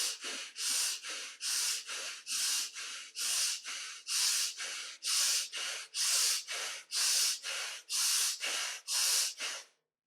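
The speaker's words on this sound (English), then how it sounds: "And now the belly breathing." Rapid, forceful belly breathing exercise, about twenty sharp rhythmic exhalations through the nose in a steady pulse, close and loud with short pauses between, no talk.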